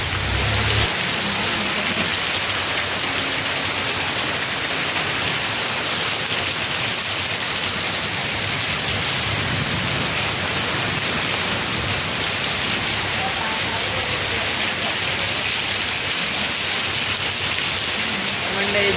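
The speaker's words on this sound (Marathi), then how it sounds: "मंडळी जोरदार पावसात सुरुवात झालेली आहे." Heavy first monsoon rain pours down over a Konkan village, a dense, loud and unbroken roar of rainfall drumming on surfaces throughout.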